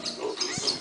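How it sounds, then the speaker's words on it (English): Pig on a farm raising medium-sized, growing pigs gives a short, close grunt amid steady farmyard background noise, with no talk. "the medium-sized pig that's growing."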